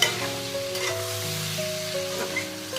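Prawns sizzle and crackle in a hot pan, a close, steady frying hiss with faint tonal hum underneath.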